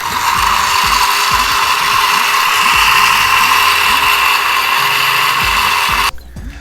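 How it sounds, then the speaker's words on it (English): A wet grinder grinding batter for Kandhar appam, a loud steady mechanical whir with a rapid repeating knock from the rotating stones, running continuously close up and then stopping abruptly near the end. "Now we have to crush it before we add them. And continue grinding it."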